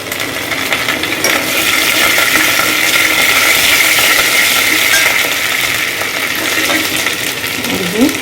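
Curry leaves crackle and sizzle in hot oil for Gujarati dal dhokli, a steady close hiss filling the whole stretch with a small clatter near the end.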